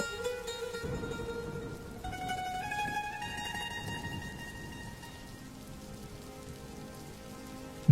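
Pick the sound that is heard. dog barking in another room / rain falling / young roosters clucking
rain falling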